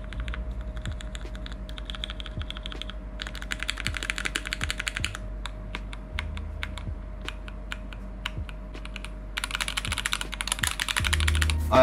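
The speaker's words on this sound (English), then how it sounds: "The difference can be easily heard once you put on the keycaps." Typing on a mechanical keyboard with tactile switches and keycaps fitted gives close, crisp clacks in uneven bursts of rapid keystrokes with short pauses between them, and no voices.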